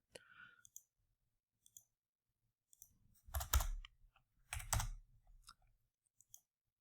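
Computer mouse clicks while working in Excel Solver, a few sparse clicks and a couple of louder clustered bursts, close and quiet, with no talking.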